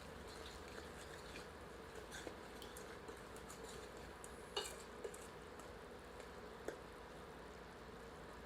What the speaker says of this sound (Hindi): सबको मिलाते हैं और 1 से 2 मिनट मध्यम आंच पर भूनते हैं।